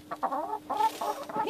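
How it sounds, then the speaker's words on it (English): Several chickens cluck and murmur close by in a quick series of short, throaty calls, with brief pauses between them. "And here's our chickens."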